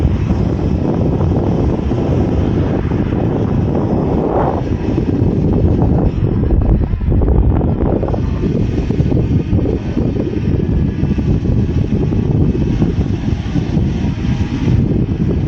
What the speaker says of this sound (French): Et normalement, là, le drone va me suivre.